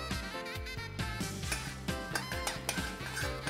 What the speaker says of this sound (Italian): e una leggera mescolata